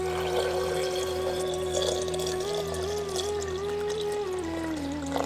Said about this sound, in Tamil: இப்ப நெல்லிக்காய் முழுகிற அளவு தண்ணியை ஊத்தி